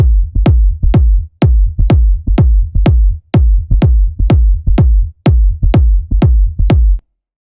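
Kick drum sample from the Sidekick drum kit looped in an underground house track alongside a bassline, giving loud, steady four-on-the-floor thumps with a deep, sustained low end that stops abruptly near the end.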